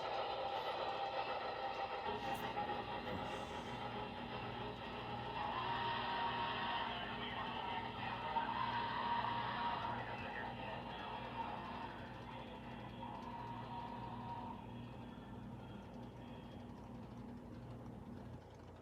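An HO scale Broadway Limited Big Boy model steam locomotive runs past with a steady mechanical rumble and a soft, continuous whirring chuff, at a moderate level with no talk.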